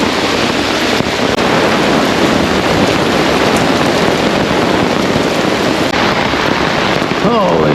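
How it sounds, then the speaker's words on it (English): Heavy thunderstorm rain beats on a camping tarp in a steady, loud, dense patter that runs without a break the whole time. "Storm's coming in."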